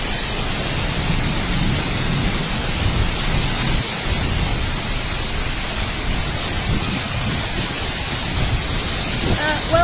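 Heavy rain pours down in a Melbourne thunderstorm, a loud, dense, unbroken roar of falling water that holds steady for the whole stretch.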